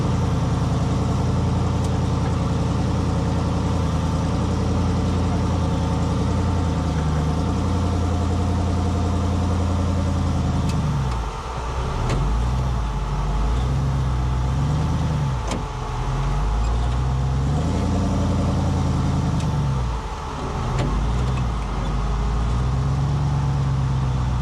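An off-road car without a locker works its engine up a trail obstacle, a loud, steady close-up rumble that swells and dips in revs as the driver throttles through the climb, with no voices over it.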